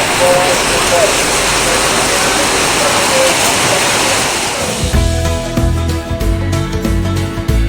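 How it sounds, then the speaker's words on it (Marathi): Heavy rain roars as a dense, continuous hiss over a weekly market in Kankavli for most of the stretch, then gives way to music or talk-like sound near the end. "मोठा पाऊस चालू झाला"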